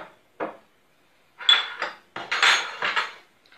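A cooking pot is handled in a home kitchen while preparing potatoes with patties, giving several short metallic clanks and scrapes with silent gaps between them, close and moderately loud.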